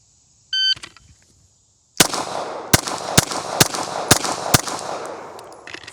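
Pistol shots ring out on a USPSA shooting range stage after a shot-timer beep, five or six sharp, loud cracks in quick succession with echoing tails.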